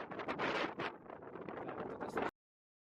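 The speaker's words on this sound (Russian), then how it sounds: "порывы ветра буквально начали меня сносить с ног" Strong mountain wind gusts batter the microphone in rough, buffeting bursts, loud and close, rising and falling for a couple of seconds before cutting off abruptly.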